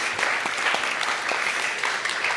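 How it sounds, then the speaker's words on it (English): Audience applause after a demo is called up at a science talk: steady, dense clapping from a crowd, fairly close and sustained throughout with no speech over it. "yes, a round of applause."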